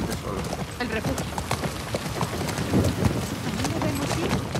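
Rapid hoofbeats of a galloping horse in the video game The Last of Us Part II drum along steadily at moderate volume, with wind rushing and a voice speaking over them.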